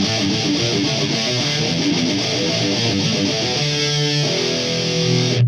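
A Quad Cortex rhythm guitar tone, modelled on a guitarist's rig, plays soloed as dense distorted riffing with palm-muted chugs and sustained chords, loud and continuous.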